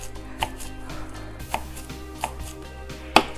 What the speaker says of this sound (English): cut up the cilantro and not cut myself